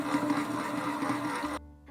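A stand mixer kneads bread dough for flaky layered pull-apart toast at medium speed, a steady droning motor whir close up that cuts off abruptly near the end.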